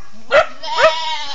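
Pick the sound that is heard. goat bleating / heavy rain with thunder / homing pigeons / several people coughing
goat bleating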